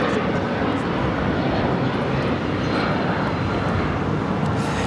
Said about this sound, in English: taking off to Houston Intercontinental on the 757-200